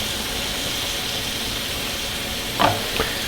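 Shrimp sizzle steadily in a hot pan while browning, a constant close hiss, with a couple of brief scrapes of a utensil near the end.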